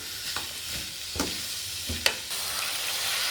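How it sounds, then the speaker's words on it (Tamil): Snake gourd stir-fried in a pan for poriyal, a constant sizzle broken by a few sharp stirring clanks and scrapes of the spatula, near and moderately loud. "இதை நம்ம நல்லா வதக்கி எடுத்துட்டோம்னா சுவையான புடலங்காய் பொரியல் ரெடியாகும்"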